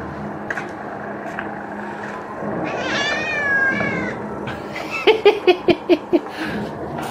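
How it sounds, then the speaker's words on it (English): Cartoonish cats meow in a graphics card benchmark demo, a rising drawn-out yowl followed by a quick run of short, loud, rhythmic mews up close. "they're back to being kitties"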